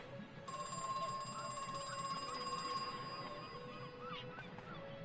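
In the game Crow Country, a telephone rings steadily with a sustained electronic bell tone, moderately loud over soft background ambience, with no speech.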